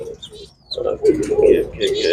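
Soft pigeon cooing in low, rounded bursts from a large loft, repeating several times close by, with some faint higher chirps above.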